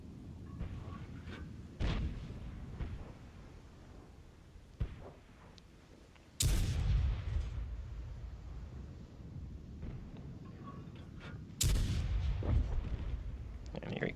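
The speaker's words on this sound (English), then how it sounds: "And now I've got heavy tanks shooting at me as well." Heavy tank cannons fire in World of Tanks Frontlines: two loud, booming blasts land about five seconds apart, with smaller impacts and rumbling battle noise between them.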